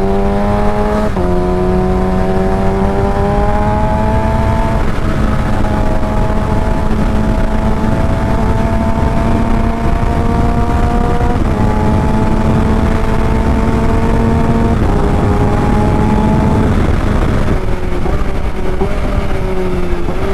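2017 Kawasaki Ninja H2 Carbon supercharged motorcycle with quick shifter, running hard at high revs in third gear, a loud sustained engine whine that rises steadily with brief dips, heard close over road and wind noise.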